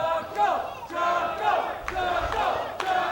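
Crowd at a wrestling match, loud yelling and chanting in repeated surges, many voices roaring together throughout.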